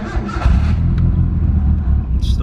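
A 1989 Nissan Silvia S13's tuned CA18DET engine with HKS cams cranks and catches, then settles into a steady, rumbling idle close by, with a brief higher whir near the end.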